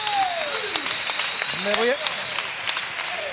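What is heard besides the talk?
audience applause at carnival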